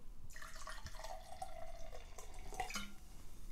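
Tonic water poured into a glass of Roku gin, a quiet trickling stream with fizzy bubbling that runs for a few seconds up close, then stops.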